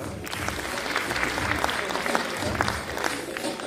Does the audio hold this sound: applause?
yes